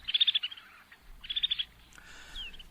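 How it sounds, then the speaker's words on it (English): Two short bursts of rapid, high twittering from a snow bunting, with a thinner call just after them, all faint and set against quiet background. "the snow bunting"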